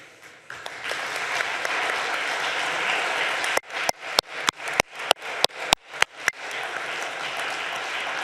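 Applause at a patient organisation networking day on lung disease and mental health, a room of clapping hands sustained and fairly loud, broken midway by a series of sharp, rhythmic cuts before resuming.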